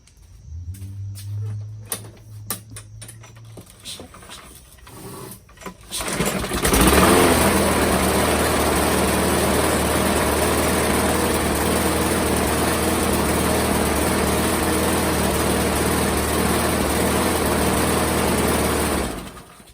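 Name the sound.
Craftsman lawn mower Briggs and Stratton engine running poorly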